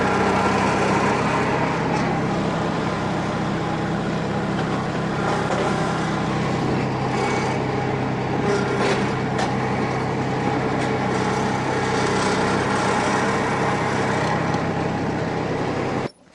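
A tractor fitted with a pallet fork grapple idles steadily for the whole stretch, a continuous loud diesel drone with scattered clanks and rattles, then cuts off abruptly at the very end.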